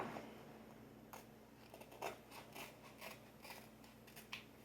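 Scissors snip through something at close range in a quiet room, a series of short irregular cutting sounds over a steady low hum, with no talking.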